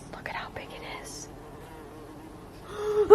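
A large bee drones close by outdoors in Alaska, a wavering buzz that steadies and then swells louder near the end, with faint whispery voices in the opening moments.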